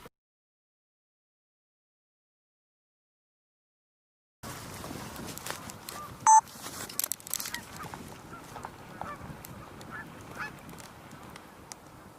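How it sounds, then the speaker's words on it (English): Gadwall ducks call from a distance, with a few faint, scattered honking notes and one brief clearer call, over outdoor background noise after several seconds of silence. "believe I do hear gadwalls"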